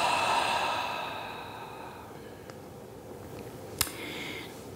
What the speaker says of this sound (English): breathe in through your nose, hold it at the top, and big exhale